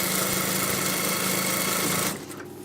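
A sewing machine runs fast and steady through a straight seam on salwar fabric, a loud even whir that cuts off just before the end.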